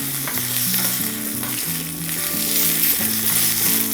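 Tempering with curry leaves and green chillies crackles in hot oil for a radish dish, a dense, steady sizzle with a bright hiss that stays close and loud throughout, with a tonal hum running underneath.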